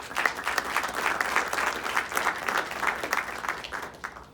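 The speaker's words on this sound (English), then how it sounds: "Round of applause for Angelo." An audience at a village State of the Village address breaks into dense, steady applause that lasts about four seconds, many hands clapping at once and filling the room.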